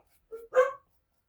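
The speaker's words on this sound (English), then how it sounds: "Sorry if you can hear my two doggies barking." Two short dog barks from two dogs aboard a boat, one small and one fuller, in quick succession at a moderate distance, followed by silence.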